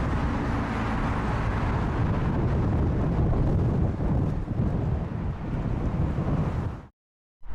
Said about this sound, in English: This A380 came in sideways through London storm, wings rocking like crazy.